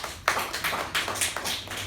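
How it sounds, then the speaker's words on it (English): A small meeting audience gives a round of applause: brisk, irregular clapping from a handful of people, fairly close and continuous for a couple of seconds. "Let us give him a thunderous round of applause."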